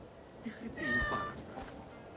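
Cats meow in Assassin's Creed Origins, a pair of clear, close in-game mews rising and falling over a quiet ambient bed, with faint game voices murmuring underneath.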